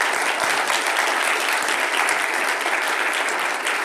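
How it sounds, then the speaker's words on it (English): A conference audience gives a big round of applause for the panelists and speakers, a dense, steady clapping that holds at an even loudness throughout with no voices over it. "So a big round of applause to all our panelists and speakers."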